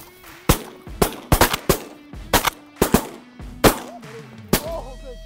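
Repeated shotgun-style gunshots ring out outdoors on a hunting evening, about ten sharp reports in an uneven, quickening rhythm, some close and loud, others farther off, with faint calls in the gaps.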